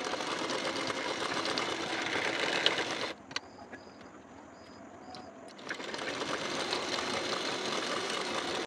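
Sewing machine running fast while stitching a blouse waistband, a dense continuous whir that stops for a couple of seconds in the middle and then starts again, close and alone.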